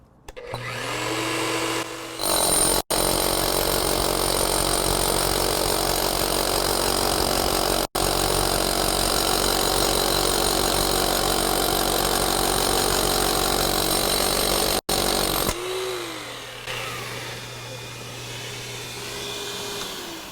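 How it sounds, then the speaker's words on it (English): A loud, steady motorized drone of an SDS hammer drill and a DeWalt DWV012 10-gallon dust extractor running together while drilling, starting abruptly, holding constant for about thirteen seconds, then cutting off. "All right, so let's get drilling."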